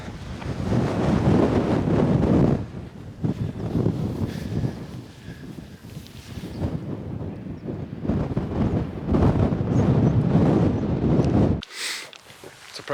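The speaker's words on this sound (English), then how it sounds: "It's a bit windy." Gusty wind buffets the microphone beside a small hidden loch on the Isle of Skye in Scotland, a loud, continuous roar that rises and falls with occasional people talking underneath.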